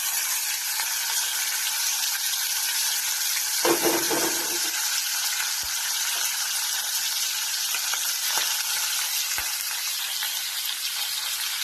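Turmeric-coated fish goes into hot oil in a pan, giving a bright, continuous sizzle with a louder burst of bubbling as the pieces drop in. A few sharp clicks follow, with no talking.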